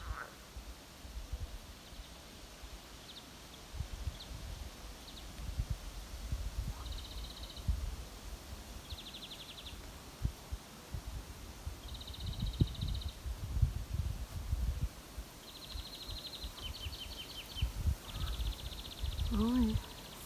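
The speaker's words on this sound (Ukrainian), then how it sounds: "Ну ви послухайте. Пташки. А жабки там свої якісь справи вирішують." Faint birds chirp in scattered short phrases over a soft outdoor rustle and wind, with an occasional low croak from frogs.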